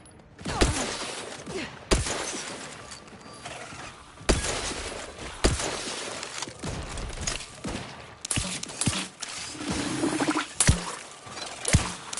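The player's weapon fires in Outer Worlds 2, giving sharp, irregular shots spaced a second or two apart, with clattering mechanical noise between them.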